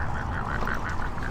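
Ducks near the Tidal Basin give a rapid run of repeated quacks, fairly close and prominent over outdoor background noise.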